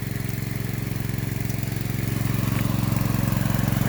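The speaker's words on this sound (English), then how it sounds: "My new little backup pump because my air pump carburetor went bad" A small backup pump engine runs steadily at a highbanker used for gold recovery, its loud, even putter holding close and constant throughout with no pauses.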